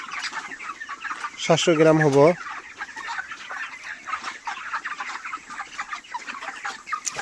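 Broiler chickens on a poultry farm of about 2200 birds, roughly 32 days old, cluck and chatter steadily throughout, with someone talking over them and a brief loud call near the start.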